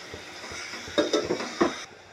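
Pieces of chicken are stirred in a pot for chicken soup, with a spoon scraping and clinking against the metal in a few louder strokes over a faint background sizzle.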